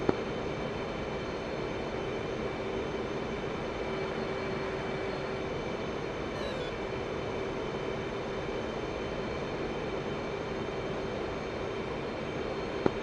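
Simulated F/A-18C Hornet jet in the DCS flight simulator game, a steady, continuous engine drone with constant broadband roar and a faint tonal hum, unbroken for the whole stretch and heard with no talking.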